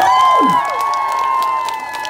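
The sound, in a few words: audience applauding contestants on stage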